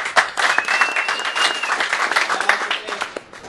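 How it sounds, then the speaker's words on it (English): Audience clapping at a Main Events boxing press conference, a lively burst of applause with scattered cheers and voices mixed in, fairly close and continuous. "Let's give a round of applause for that."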